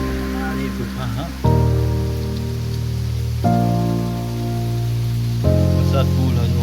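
Heavy monsoon rain pours on a forest trek near a cave at Hadol, a dense steady hiss under a sustained tonal voice-like drone that steps up in level twice.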